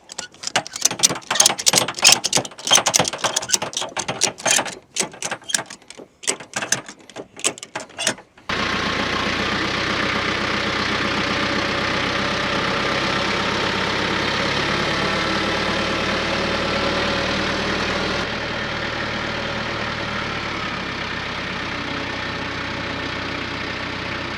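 Choppy, clattering mechanical bursts give way to the steady, even drone of a TYM 4820 compact tractor engine running under load while lifting two full totes.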